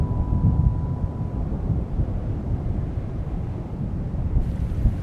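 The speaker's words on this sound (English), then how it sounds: "The wind that sends them safely on their way is bringing change." Steady wind roaring and buffeting outdoors in the Scottish wilds, a dense continuous rumble with gusty swells and no voices.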